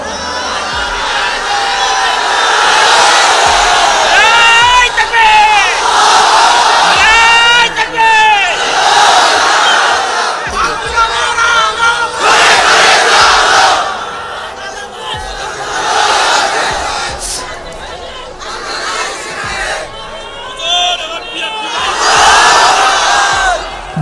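A large crowd at an outdoor religious sermon shouts takbir in loud, repeated massed bursts, with pauses between the waves of chanting and a preacher's voice calling out between them.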